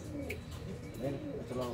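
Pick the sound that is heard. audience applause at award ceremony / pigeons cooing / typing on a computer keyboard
pigeons cooing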